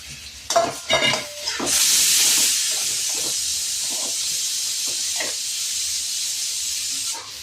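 Chopped snake gourd hits a hot pan and bursts into a loud, steady sizzle that fades slowly into a long hiss, after a few stirring clatters at the start.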